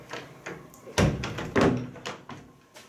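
A wooden door handle turns and an old interior door in a 1912 museum house opens, giving several close knocks and thumps with a soft clatter of the latch, two louder impacts standing out.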